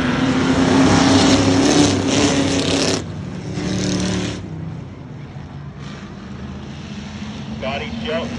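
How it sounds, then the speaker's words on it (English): Race cars in a heat race roar around a track, loud and sustained at first, then easing and fading as the pack passes, with a voice talking over the engines. "Scotty Shelton trying to keep himself dominating in the heat race"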